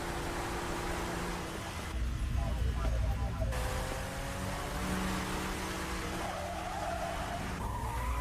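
Tires of a sports car screech and skid in a long, loud squeal as its brakes fail, with the engine droning beneath the sustained scraping.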